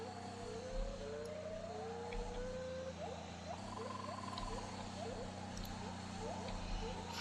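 Military vehicle engine in Graviteam Tactics with a stuck throttle, revving with rising and falling whining tones over a steady low drone, while someone talks throughout.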